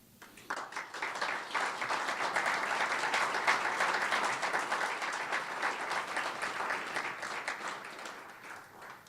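An audience applauds at a hotel renovation announcement for the Galt House in Louisville, a moderate wash of clapping that swells quickly and holds steady.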